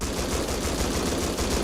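Rapid automatic fire from an M249 light machine gun fitted with a laser sight in the survival game Rust, a dense unbroken rattle of shots throughout, loud and close, with no voices.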